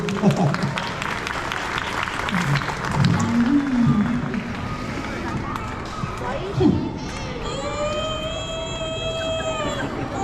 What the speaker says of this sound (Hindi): हाँ, या तालियों से स्वागत करिए।